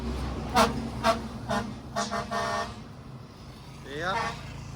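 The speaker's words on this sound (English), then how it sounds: "We're getting pretty tired of hearing that beeping." Trucks passing on a road in Vietnam during a cycling tour, sounding a series of short, loud horn toots in quick succession, then another horn blast a moment later with a falling pitch, amid road noise and some talk.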